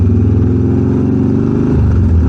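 Harley-Davidson motorcycle engine roaring steadily while riding through farmland, a loud, close, continuous low rumble that dips briefly in pitch near the end as if shifting gear.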